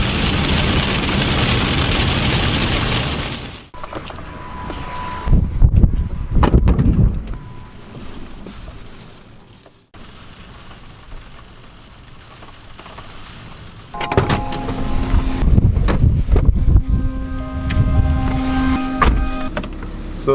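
Strong wind and rain buffeting a parked van at night, a loud steady roar of gusts and rain on the body that drops and swells in waves, with creaks and rattles inside.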